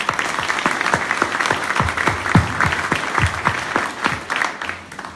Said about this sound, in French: On peut les applaudir parce qu'ils ne viennent pas d'à côté.